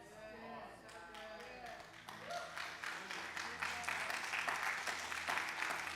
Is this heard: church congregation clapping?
yes